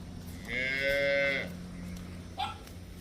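A Jersey cow gives one long, loud, drawn-out moo, followed by a short faint call after a pause, over steady low background hum.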